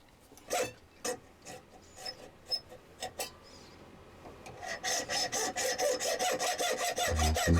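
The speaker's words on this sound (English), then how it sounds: "then we're going to get a file on it and take it down to the lines" A hand file rasping on a workpiece clamped in a wood vise, first in separate scraping strokes, then in a quicker steady run of close rhythmic strokes, near and fairly quiet.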